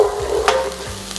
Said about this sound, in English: we're going to cook these onions until they're nice and translucent